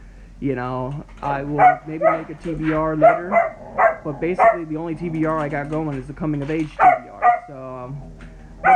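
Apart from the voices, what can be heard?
dog barking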